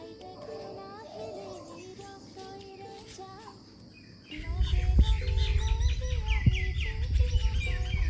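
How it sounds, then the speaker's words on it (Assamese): Birds chirp and call in a village at morning, scattered tweets at moderate distance over a quiet background, then joined by a louder low rumble and busier calls. "দেখিছেনে চৰাই চিৰিকটিৰ মাত?"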